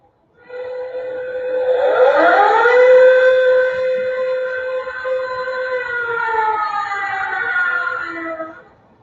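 A civil defense air raid siren winds up and holds a loud, wailing rising-and-falling tone for several seconds before fading out, heard alone without talk.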